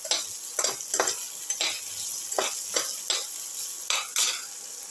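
Curry leaves sauté in a pan under a soft sizzle, with a spoon scraping and clinking against the pan in quick, repeated strokes, close and moderately quiet.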